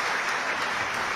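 Brief, loud, dense applause from a concert audience after a choir's folk song, a continuous wash of clapping with no voices.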